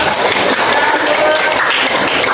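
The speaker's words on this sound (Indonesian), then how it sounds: "Tepuk tangan dulu." A fifth-grade class in Indonesia gives a burst of applause after a student sings, dense continuous clapping filling the room, loud and close without pause.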